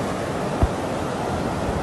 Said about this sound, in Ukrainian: Вода идет через дорожное полотно.